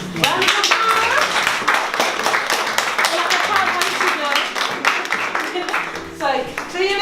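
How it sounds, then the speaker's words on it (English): A round of applause in a community workshop room, many hands clapping steadily and close by for several seconds, with some voices mixed in toward the end. "Round of applause."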